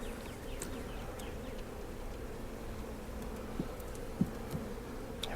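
Agitated honeybees buzz around an opened hive during a Demaree split, a faint, continuous hum with a few soft knocks and no voices.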